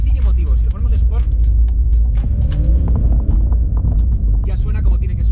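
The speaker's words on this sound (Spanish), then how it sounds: "ya suena como tiene que sonar un Porsche" A new Porsche 911 in Sport mode gives a loud, deep engine roar that swells and rumbles up close, with rising revs partly masked by a voice talking over it.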